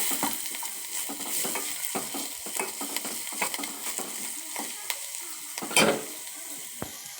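Chopped onion sizzling and frying in a pan while being stirred, a steady crackle with frequent scraping clicks of a spoon against the pan, close and fairly loud.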